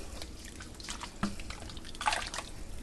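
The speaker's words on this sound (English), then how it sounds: "I'm just going to go ahead and pour this juice over." Orange pineapple juice poured over a ham, a light liquid splashing and dripping close by, with a brighter splash burst near the end and faint kitchen noise beneath.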